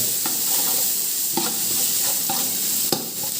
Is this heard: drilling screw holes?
no